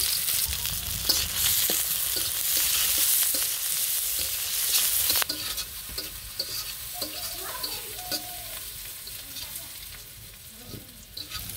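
Chopped onion and garlic frying in a pan in a village kitchen, a loud steady sizzle with repeated stirring scrapes close by, easing slightly toward the end.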